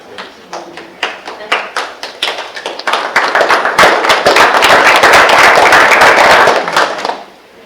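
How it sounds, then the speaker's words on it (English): Applause from the audience at a school district board meeting, beginning as scattered separate claps that quickly build into dense, sustained clapping before fading out at the end. "if we can get a thunderous applause for Joanne Buchanan at Madeline Elementary."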